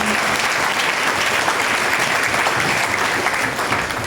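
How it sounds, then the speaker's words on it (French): A church congregation claps together in dense, sustained applause, loud and close, steady for the full few seconds without a break. "Si tu as compris ce principe, acclame-le."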